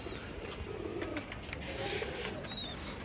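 Pigeons coo softly and repeatedly at close range, low murmuring calls with a few higher chirps over a steady outdoor background.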